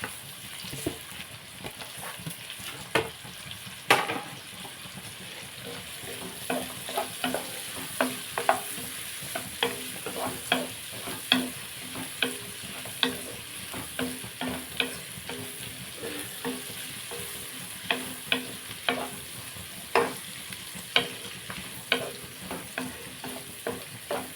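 Cumin seeds and chillies fry steadily in a pan for a dried-prawn curry, with a continuous crackling sizzle broken by regular scraping and clinking stir strokes, close and fairly loud, no talking.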